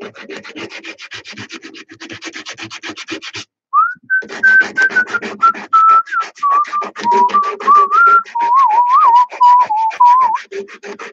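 Someone whistles a wandering melody up close over continuous rhythmic sanding strokes on wood; no talking.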